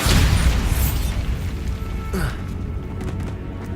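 Bombarda blasting spell in Hogwarts Legacy set off inside a cave: a heavy rumbling explosion fading into dense low debris noise, followed by a brief sweeping magical whoosh.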